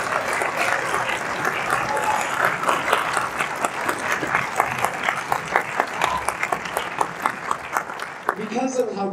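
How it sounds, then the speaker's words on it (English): Audience applause at a high school winter instrumental music concert, a steady wash of clapping from a crowd that swells and continues for several seconds, with a voice speaking briefly at the end. "can we give Miss Vegas another round of applause"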